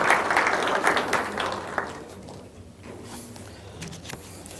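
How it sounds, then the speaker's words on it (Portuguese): Applause from an audience at a mathematics lecture, a dense patter of clapping that is loudest at the start and thins out and fades over a few seconds. "Uma salva de palmas pro colega."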